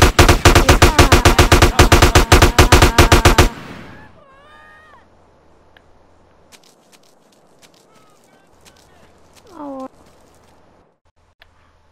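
Rapid burst of gunfire in the video game GTA San Andreas, loud dense shots for about three and a half seconds, followed by quieter game ambience with brief voice-like sounds.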